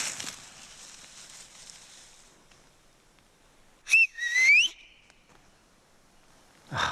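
After a breathy hiss, a short shrill survival-whistle blast sounds twice in quick succession, the second longer and wavering, then quiet rustling outdoors in Romania.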